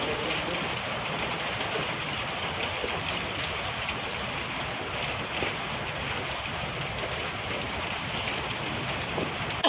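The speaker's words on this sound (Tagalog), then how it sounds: "Bato na may halong ulan." Steady dense patter of rain mixed with falling stones during the Taal volcano eruption, a continuous broadband wash with scattered small impacts, fairly loud and unbroken throughout.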